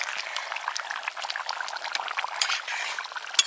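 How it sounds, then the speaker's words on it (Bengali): Food, including meat, boils vigorously in a pot at a winter picnic, giving off a steady dense bubbling and popping that continues throughout with no voices. "টকবক করে ফুটছে।"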